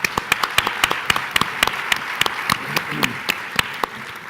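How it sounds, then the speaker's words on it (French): Audience at a tourism conference applauds warmly, a steady patter of many hands clapping at moderate volume with a few sharper individual claps standing out, no voices over it. "Je vous demande de les applaudir très chaleureusement."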